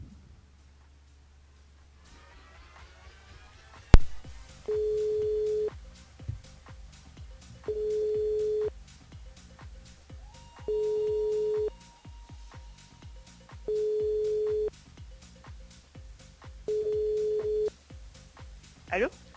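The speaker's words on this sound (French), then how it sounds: "on appelle Amandine du côté de l'étang salé." A telephone ringback tone sounds while a radio show dials a listener, with five evenly spaced, loud steady beeps repeating about every three seconds against faint background music.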